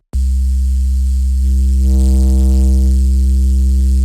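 A steady, low synth bass drone with a hiss of noise layered on top and a gritty, asymmetrical distortion edge, held for several seconds without talk.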